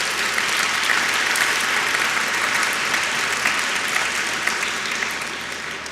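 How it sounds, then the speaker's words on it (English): Sustained applause from a conference audience at a debate on free expression, a dense, steady wash of many hands clapping that holds evenly and eases slightly toward the end. "can I please have a warm thank you applause for Mr."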